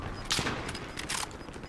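Gunfire in Call of Duty Warzone, a couple of quick bursts of shots with brief gaps between them, moderately loud against faint game background and no talk.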